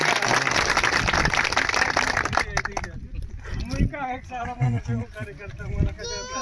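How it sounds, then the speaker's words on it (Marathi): Loud, dense applause from an audience at an aid distribution gathering for families in Beed and Dharashiv, fading after a couple of seconds into people talking. "सर्वात पहिलं आपण बीसी साहेबांसाठी जोरात टाळ्या वाजवा."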